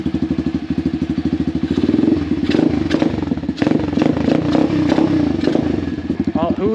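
A pit bike engine, freshly fitted with a new carburetor and still a little cold, revs up and down steadily while being ridden, with a choppy throttle-driven pulse and some mechanical clatter running loud and close throughout.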